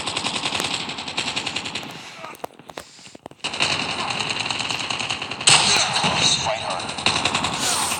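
Automatic gunfire in a Call of Duty match rattles in long rapid bursts, with a short lull before heavy firing resumes, loud and dense, while a voice talks over the battle.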